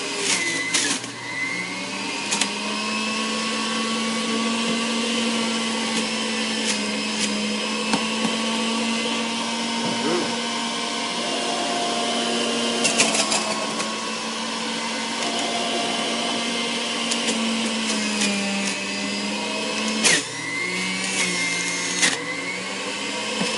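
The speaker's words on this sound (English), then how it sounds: "I use the celery to make sure that all my fruit gets juiced up" A home juicer motor runs steadily and loudly while pressing fruit, with a continuous whirring hum and slight shifts in pitch as produce is fed through, holding nearly unchanged throughout.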